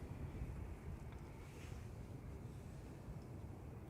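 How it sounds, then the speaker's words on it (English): Wind at Manchester Airport buffets the microphone and blows as a steady, low rumbling roar. It continues without a break and with no other clear sounds. "Wind's picking up a little bit."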